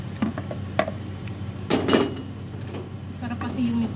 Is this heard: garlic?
yes